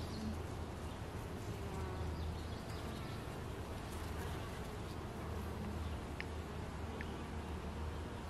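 Honeybee colony buzzing steadily at the hive, a dense continuous drone of many wings close by with no pauses, a busy and thriving swarm.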